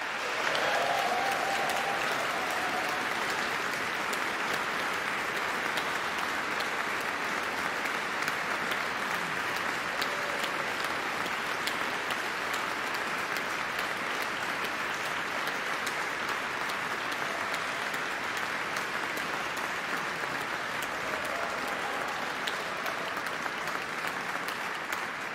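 A large audience applauds the second prize winners, a youth barbershop group, at a choral festival gala concert: loud, sustained, dense clapping that holds steady for about twenty-five seconds with a faint crowd murmur and no voices over it.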